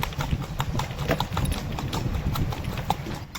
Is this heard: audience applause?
no